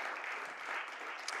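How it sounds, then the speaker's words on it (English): A church congregation claps for John Friel, making a brief, soft, distant patter of applause that stays even for about a second. "Give him a clap."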